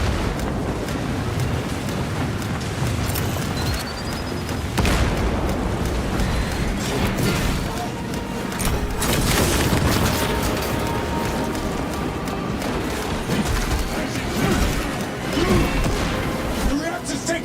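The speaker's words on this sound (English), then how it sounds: "Shock grenade downrange." A shock grenade detonating in Warhammer 40K Space Marine 2, a heavy crashing blast amid continuous battle noise, gunfire and shouted voices.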